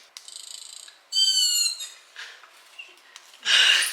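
A small plush toy sloth gives off a run of high squeaky, chirping electronic noises in short bursts, close and fairly loud, with no talk.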